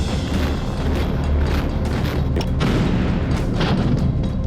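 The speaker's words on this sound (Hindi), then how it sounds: "बाखमुत बीते 6 महीने से विध्वंसक विस्फोट झेल रहा है।" Heavy booming blasts in war-torn Bakhmut, Ukraine, a dense, continuous rumble of loud explosions and impacts with no voices.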